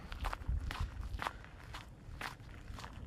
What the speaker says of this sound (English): Do you guys hear that? Crunching?